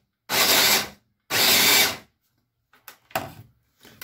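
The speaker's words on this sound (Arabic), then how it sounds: "شويه نتاع السكر. وغادي نطحن ان شاء الله." An electric grinder pulverizes sugar in two loud, close bursts of about a second each with a short pause between, then faint rattling and clinking as it stops.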